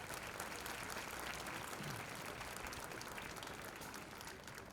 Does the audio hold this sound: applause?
yes